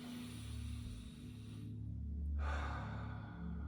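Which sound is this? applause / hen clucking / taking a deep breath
taking a deep breath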